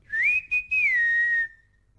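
A narrator reading a story aloud imitates a whistle: one clear human whistle that rises, briefly breaks, then holds and slowly falls before fading, heard alone.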